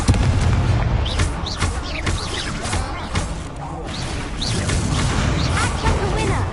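An Incendio fire spell is cast in Hogwarts Legacy, with whooshing bursts and booming impacts of fiery magic over continuous game sound, mixed with vocal effects.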